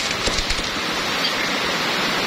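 Heavy rain pours down steadily and loudly, a dense continuous hiss of water on surfaces close by, with no voices over it.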